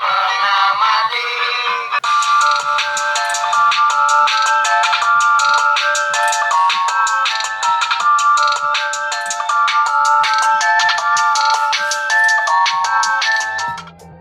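Loud MP3 music blares from the speaker of a Mito 901 budget phone, a bright repeating ringtone-like melody playing continuously for several seconds, close and dominant, with no talking.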